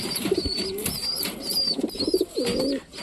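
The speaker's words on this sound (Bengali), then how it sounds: "এই যে পায়রিটা সেম কালারের আমি জোড়া দিয়েছিলাম, দেখো পায়রিটা দুটি খুব সুন্দর" Pigeons cooing in a loft, a pair of same-coloured birds among a flock heading down to feed, with repeated soft throaty coos close by and chirpy bird calls over them, no talk.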